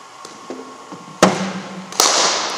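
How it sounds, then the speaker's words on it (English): A cricket bat strikes the ball during batting practice at an academy, producing two sharp cracks about a second apart, close and loud over faint background noise. "Shot, Dan. That's it. Beautiful shot"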